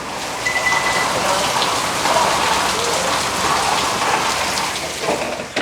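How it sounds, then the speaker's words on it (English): Steady rain pours down, a dense hiss of drops spattering on a surface, constant and close throughout. "It's raining out here,"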